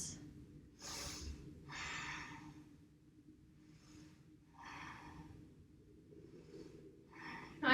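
Deep, audible breaths while holding a warrior-style yoga pose in a vinyasa flow, several slow inhales and exhales in an uneven rhythm, close and fairly quiet, with no talking.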